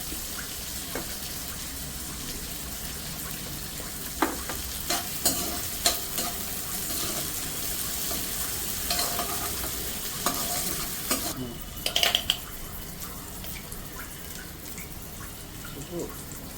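Green chillies frying in a pan with sweet corn for paneer fried rice, a soft continuous sizzle with scattered spatula taps and scrapes, briefly busier near the middle.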